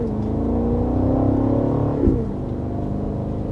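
A 2026 BMW X6 with a V-8 pulling onto a road, its engine note droning and rising steadily, close and fairly loud, with a brief shift in pitch around two seconds before settling into a steady hum.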